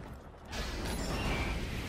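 Door mechanism in a first-person shooter game grinds into motion with a sudden onset, then a steady, moderately loud mechanical rumble and creak that holds to the end.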